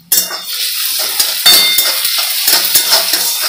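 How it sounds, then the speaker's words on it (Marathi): Onion fries in a pan for a dried-fish chutney, loud close hissing sizzle with repeated spatula scrapes and metallic clinks as it is stirred. "कांदा लालसर होईपर्यंत भाजून घेऊया"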